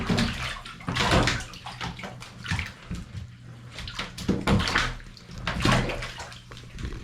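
A red eared slider turtle splashes and sloshes in a tub of water while trying to climb out, giving close, irregular bursts of watery splashing and churning.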